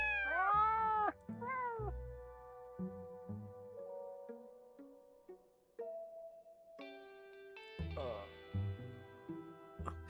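Video game cat meows sound one after another from the game Your House: several bending, tonal cries at the start, followed by a sequence of stepped, synthetic musical tones.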